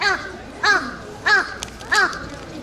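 Crows caw nearby on a Yokohama street, four clear harsh calls spaced at a steady rhythm about two-thirds of a second apart, loud and close over faint background noise.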